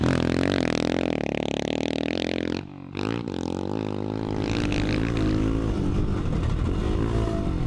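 A modified Royal Enfield motocross bike roars close by while being ridden, its engine revving hard with a brief drop as the throttle is lifted before picking up again, gritty and loud throughout.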